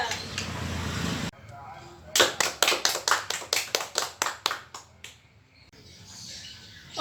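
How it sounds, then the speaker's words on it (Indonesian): Group 2 in a classroom gets a round of clapping from students: about a dozen sharp, evenly spaced claps that fade out over a few seconds, with murmuring before and after. "beri tepuk tangan untuk kelompok"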